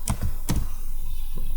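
A few quick keystrokes clatter on a computer keyboard up close, in a brief irregular burst with a pause before a final tap.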